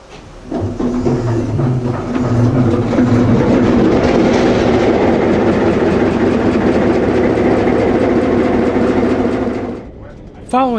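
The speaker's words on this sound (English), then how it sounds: "Following the freight train out of the yard is the 1649." A freight train pulls out of a railway museum yard, a loud close rumble of engine drone and rhythmic clickety-clack of cars rolling past, with squealing wheels as it fades near the end.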